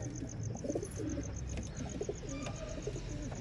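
Desi fancy pigeons coo softly in a loft, faint rounded calls repeating under a steady background hiss, with a few light chirps mixed in.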